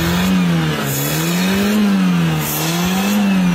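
A Trascan engine in good condition runs loud and close, its pitch rising and falling in smooth, repeated revs over a steady drone, with no talking.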